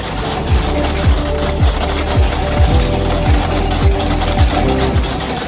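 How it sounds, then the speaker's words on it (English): A KEMROC EK series chain cutter trenching attachment runs with a steady loud mechanical whir and clatter, punctuated by repeating heavy thuds roughly every half second. "This is the EK series. This is what we call the chain cutter."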